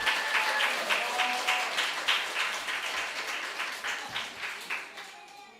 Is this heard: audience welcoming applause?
yes